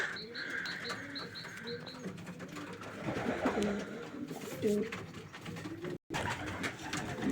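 Marbled homing pigeons coo softly in a low, rolling murmur, with faint chirps and rustling around them, fairly distant and quiet.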